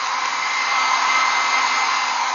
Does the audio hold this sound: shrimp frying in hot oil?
no